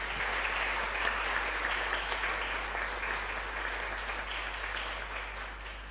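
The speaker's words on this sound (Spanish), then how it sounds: "ofrezcámosle un fuerte aplauso" A church congregation applauds Father Víctor after the homily, sustained, even clapping from many hands that holds steady throughout and fades slightly at the close, over a low constant hum.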